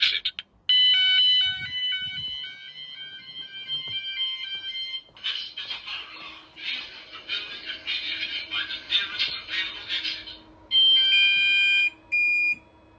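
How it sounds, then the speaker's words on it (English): A Gent Vigilon electronic fire alarm sounds in close, insistent bursts of shrill tones, pausing briefly between phrases, with a softer pulsing tone in between. "This is a fire alarm."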